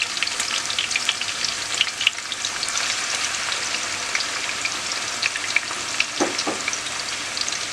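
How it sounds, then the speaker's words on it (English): Seasoned pork chops with onions and garlic fry in a pan over medium heat, giving a steady, close sizzle with scattered crackles and pops and no talking. "So I have this frying on medium heat"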